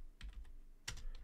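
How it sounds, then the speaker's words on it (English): A command is typed on a computer keyboard in two short bursts of close, crisp key clicks separated by a brief pause. "I'm going to type down"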